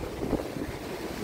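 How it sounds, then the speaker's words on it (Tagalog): Strong wind buffets the microphone at a dam, a low rumbling gust that rises and falls over about a second with no voices. "Yes, mahangin siya."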